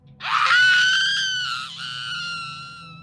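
A woman screams in terror after surfacing from water, one long loud piercing shriek that rises, holds and then fades slightly toward the end, with no talking over it.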